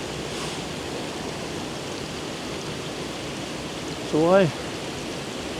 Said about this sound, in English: a wee rapid here, not much of a rapid, but just enough to get that full waterfall in